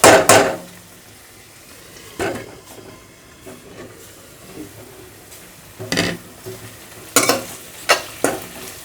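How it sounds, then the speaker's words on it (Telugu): Onions being stirred and sautéed in a pan while making prawn fry, with a low sizzle under several sharp scraping stirs of a spoon against the pan, close by and without talk. "అందుకని ఇలా కలుపుకుంటూ మగ్గనివ్వాలి"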